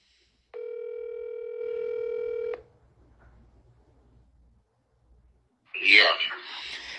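A telephone call being placed: a steady electronic ringback tone holds for about two seconds, then quiet line hiss, then a short muffled burst like a voice picking up.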